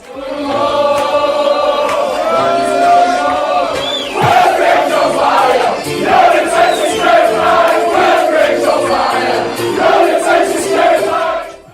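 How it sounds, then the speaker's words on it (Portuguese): Football crowd of Northern Ireland fans chanting a song, a loud massed sung chant from many voices with a rising, repeating melody throughout. "Muita gente talvez se lembre das musiquinhas da torcida da Irlanda do Norte."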